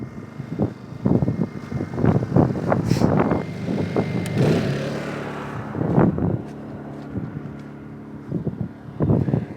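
A portable generator inside a soundproof box opened up to full throttle: a muffled engine drone with irregular surging pulses and gusty, wind-like rushes.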